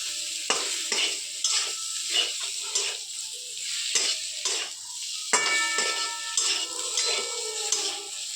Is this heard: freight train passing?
no